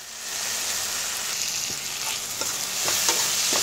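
Masala frying in oil in a pan as chili powder and green chili are stirred in for Punjabi-style baingan bharta, a steady close sizzle with soft scraping stir strokes.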